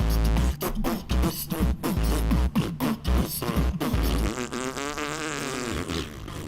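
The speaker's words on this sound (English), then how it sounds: "This is a fart song." Comic song built from fart sounds, played aloud during a charity livestream of the game Hades: a continuous, loud musical track with repeated rubbery blasts in rhythm, giving way to a sustained wavering tone near the end.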